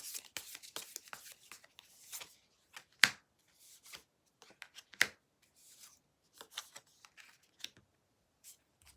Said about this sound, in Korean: 추가적인 카드로 상대방과 1번 분들은 앞으로 어떻게 되는지 조금 더 뽑아볼게요